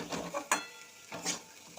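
Black cumin, green chilli and turmeric frying in oil in a home kitchen pan, with a few scraping stirs and utensil knocks over a soft, faint sizzle.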